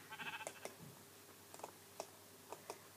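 Sheep bleats from the Minecraft video game, version 1.6.4 with the Aether mod, come as a short wavering call at the start, followed by soft clicks and ticks from the game.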